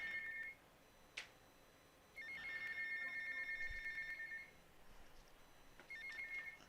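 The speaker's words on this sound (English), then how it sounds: "I have to answer the phone." A telephone rings inside the GTA Vice City video game, its bright electronic trill coming in three bursts, one long and two shorter, fairly faint and steady, with no one talking.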